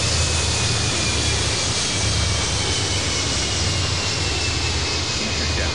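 A jet airliner comes in to land in the Airport Madness 3D air traffic control game, with a loud, continuous engine roar and whine holding steady throughout.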